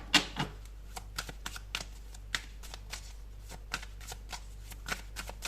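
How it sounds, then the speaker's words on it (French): Tarot cards being shuffled by hand, a run of crisp riffling clicks and soft flaps in irregular bursts, close and fairly quiet, with no one talking. "on va prendre d'autres cartes"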